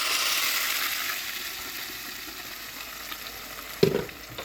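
A fish mixture sizzles steadily in hot oil in a pan, a continuous close frying hiss that gradually eases, with a brief clatter of stirring near the end.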